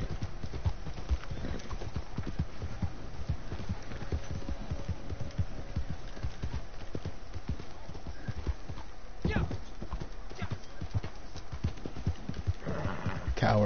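Horse hooves clip-clopping in steady rhythm in the video game Red Dead Redemption 2, close and continuous, with a brief whinny and some talk in the background.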